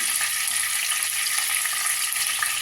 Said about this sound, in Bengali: এর মধ্যে মাথাগুলো দিয়ে দিলাম। এটা ভালো করে ভেজে নেব আগে